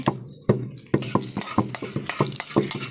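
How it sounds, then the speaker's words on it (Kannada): Garlic pieces fry in hot oil while a metal ladle stirs and scrapes the pan, giving repeated sharp clanks over a bright continuous sizzle, close up with no talk. "ಬೆಳ್ಳುಳ್ಳಿ ಚೂರು ಫ್ರೈ ಆದಮೇಲೆ ಮತ್ತೆ ಉದ್ದಿನಬೇಳೆ ಹಾಕ್ತಾರೆ"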